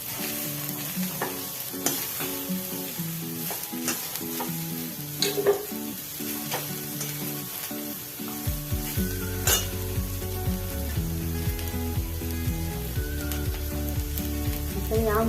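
Food sizzles steadily in a pan while being stirred, with occasional scrapes and clinks from the utensil, and a deeper frying hiss joins partway through.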